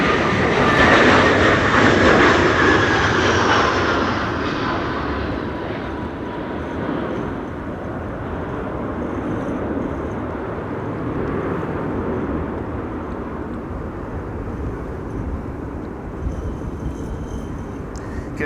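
An Air France passenger jet landing at Amsterdam Schiphol in high storm winds, a loud roaring engine rush that peaks early and fades into a long, steady rumbling wash with wind noise.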